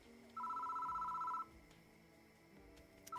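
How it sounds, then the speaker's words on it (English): A single electronic telephone ring in the video game Death Mark, steady and bright, lasting about a second, then fading into a low ambient hum with no talking. "Phone's ringing."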